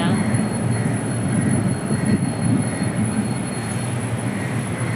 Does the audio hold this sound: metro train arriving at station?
yes